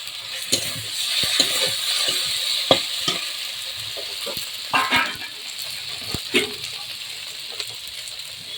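Tomatoes go into a chicken curry with poppy seeds, and the mixture is stirred while it fries, with loud sizzling and repeated scraping, clacking strokes of a spoon against the pan close up.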